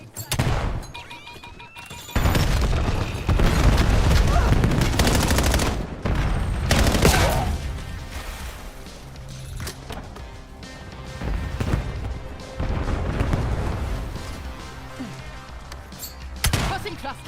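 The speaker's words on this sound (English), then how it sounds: "Concussion grenade." A concussion grenade goes off in a shooter video game amid loud bursts of gunfire and crashing impacts, with a voice talking over the chaotic battle noise.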